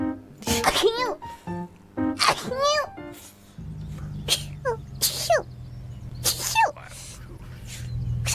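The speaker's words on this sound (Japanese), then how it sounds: "let's see which ones have the くしゃみ cutest 賞 sneeze" Hololive VTuber sneezes, a string of short, high, squeaky sneezes in quick succession, some faint and some sharp, mixed with brief voiced sounds and a steady hum underneath.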